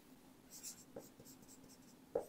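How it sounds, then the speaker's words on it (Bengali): A pen or marker writes by hand during a physics lesson, producing soft, faint scratching strokes with a couple of sharper taps in a quiet room. "লেখা হলো না তো, লিখে ফেলি চলো"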